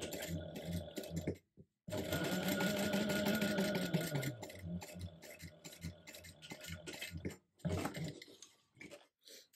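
A sewing machine top stitches a clutch bag in a steady mechanical run lasting several seconds, with brief pauses at the start and near the end.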